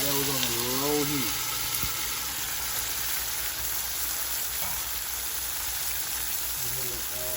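Tomatoes hitting a pot of cooked onions on low heat, giving a steady soft sizzle and crackle that carries on throughout, with a voice briefly at the start and end.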